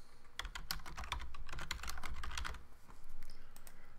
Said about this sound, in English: and I type them